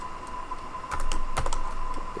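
Code is typed on a computer keyboard on macOS while building a Qt widget application, a quick run of close keystrokes over a steady background hum, with no voices.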